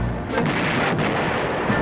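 Large-caliber breech-loading artillery of the First World War firing, a dense, continuous roar of booming blasts rolling together at high volume with no clear gaps between them.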